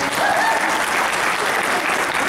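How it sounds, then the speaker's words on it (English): A wedding crowd applauds the bride with loud, sustained, dense clapping that fills the whole moment, some voices faintly mixed in. "Give her a hand."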